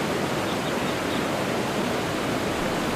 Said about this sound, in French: Là, cette cascade sera parfaite.